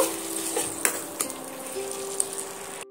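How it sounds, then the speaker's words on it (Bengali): Onion paste and spices frying in a pan, a soft continuous sizzle with a few sharp clinks of a utensil against the pan, close and brief with no talking. "পেঁয়াজটা দিয়ে আমি ভালো করে সমস্ত মশলার সঙ্গে আমি ভালো করে কষিয়ে নেব"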